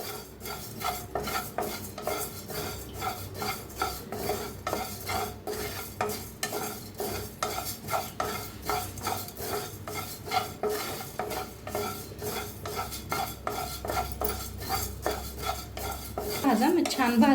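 Coriander seeds dry-roast in a pan while being stirred briskly, a close rhythmic scraping and rattling of seeds against the metal that repeats evenly for the whole stretch, with faint sizzling underneath.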